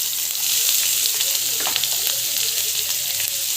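Onions sauté in hot oil for tomato thokku, giving a dense, even sizzle close to the pan with occasional soft stirring scrapes and crackles throughout.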